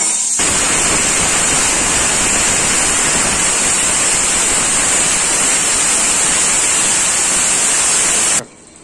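Green chillies and onions sizzle in hot oil for a restaurant-style pongali, a dense, loud, steady crackling hiss that runs nearly the whole time and then cuts off abruptly near the end.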